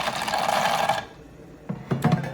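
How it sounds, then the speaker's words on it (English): A small electric water pump in a student-built pet feeder whirs steadily for about a second and then cuts off, followed by a quiet pause and a couple of brief motor bursts. "it's not going to run while the pump's running"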